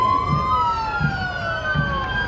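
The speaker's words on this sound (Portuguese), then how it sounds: "E passa agora a viatura Baú Seco, o caminhão que transporta equipamentos até 13" Baú Seco equipment truck carrying loads up to 13 tonnes rolls past in a motorized 7 de Setembro parade on Avenida Beira-Mar in Fortaleza, a steady engine drone under a continuous wailing siren with sweeping tones.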